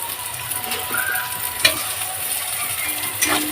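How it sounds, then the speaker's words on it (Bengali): Chopped tomatoes sizzle and fry in a pan while chicken kosha is being cooked, a steady close hiss with a few brief clinks of stirring and no talking. "টমেটোটা একটু ভেজে ভেজে নিচ্ছি"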